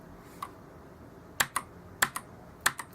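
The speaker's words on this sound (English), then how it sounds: "Obviously that's on the mechanical keyboard." Keys on an affordable 104-key Rottay RGB mechanical keyboard are pressed one at a time, giving sharp close clicks, one alone and then three pairs in a loose rhythm over quiet background hiss.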